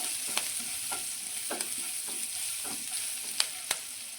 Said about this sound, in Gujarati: હવે આ બધું તળાઈ ગયું છે